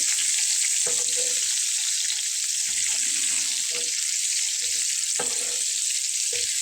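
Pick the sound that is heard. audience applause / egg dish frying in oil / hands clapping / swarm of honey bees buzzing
egg dish frying in oil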